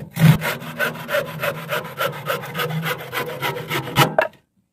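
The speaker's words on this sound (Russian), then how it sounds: "Давайте я вам сейчас еще раз покажу, как она пилит." Cheap hand saw cutting through wood, a close, loud run of rhythmic rasping push-pull strokes, about a dozen in quick succession, stopping abruptly at the end.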